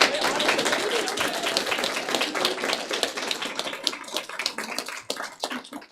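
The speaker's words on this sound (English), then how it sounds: "Just give them a round of applause real quick." An audience claps for the performers after an evening of student scenes, dense applause that thins into scattered individual claps toward the end, with some faint voices mixed in.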